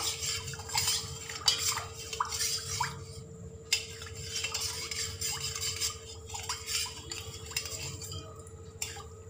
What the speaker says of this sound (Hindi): तो स्पून से हम अच्छे तरीके से इसको मिक्स कर देंगे।